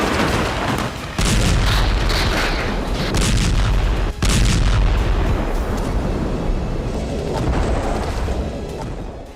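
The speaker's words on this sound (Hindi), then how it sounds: "खान यूनिस में इजराइल की बमबारी।" Bombardment in Khan Younis, Gaza: heavy, loud explosions with deep booming blasts, one large burst near the start and another around the middle, followed by rumbling that slowly fades.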